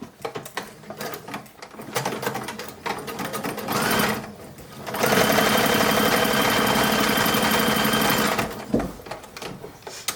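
Domestic sewing machine stitching tucks into a long sleeve with white thread for a 1940s uniform: bursts of rapid mechanical stitching, short runs then one long steady run, close and alone without talk.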